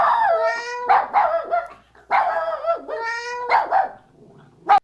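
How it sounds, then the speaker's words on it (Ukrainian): A dog barks and howls in several loud, close bursts with short pauses between them, standing alone without speech, during a children's nature lesson about a dog and cat quarrelling. "Що це за галас? Що це за шум? Це песик і котик посварилися."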